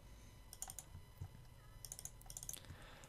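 Keys clack in quick irregular bursts as text is typed into a field, soft and close, with short pauses between clusters of keystrokes.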